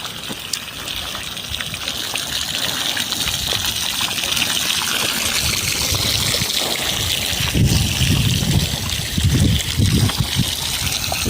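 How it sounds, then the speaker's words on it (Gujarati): Water sprays and gushes steadily from a burst irrigation pipeline used as a field sprinkler line, a continuous close hiss with occasional heavier splashing surges and no voices. "તો અહીંયા ફુવારો બોલે મિત્રો, મસ્ત મજા લઈ લ્યો"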